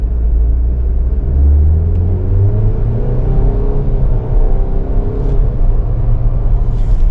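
A 2024 Chevrolet Blazer Premier SUV engine rumbles and climbs in pitch as it pulls away from a stop, steady road and cabin noise throughout, no talking.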